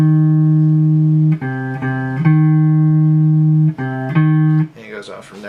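A minor third interval played as two alternating sustained tones, loud and close, swinging back and forth a few times before a voice begins talking at the end.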